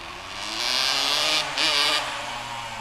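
A 1982 Yamaha iT175 motorcycle, a parts bike, revs close by with a raspy two-stroke engine. Two loud, buzzing rev bursts are separated by a brief dip, then the note settles back to a steady idle.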